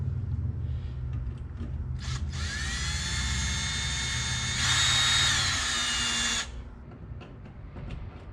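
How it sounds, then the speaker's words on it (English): A power drill whines steadily for about four seconds while drilling rivet holes in a car's transmission tunnel panel, rising slightly in pitch partway through, then cuts off, with a low hum underneath. "I'm gonna put a few holes in each corner"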